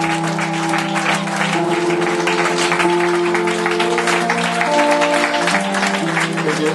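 A congregation applauds and cheers to welcome newlyweds, loud sustained clapping from a large crowd with a steady tonal hum underneath.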